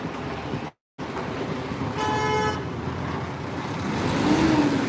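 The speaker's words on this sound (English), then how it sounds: "You get used to the honks when you live here for a little bit." A single car horn honks briefly over a steady wash of Brooklyn street traffic noise, close by and fairly loud.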